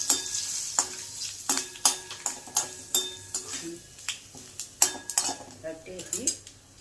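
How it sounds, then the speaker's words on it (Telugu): Curry leaves go into crackling tempering oil for a dal chutney, bringing sharp spitting pops and clinks over a sizzle in an irregular burst of crackles, with a faint voice in the background. "పెటపెటలాడిన తర్వాత కరివేపాకు కూడా వేసి కట్టేయాలి"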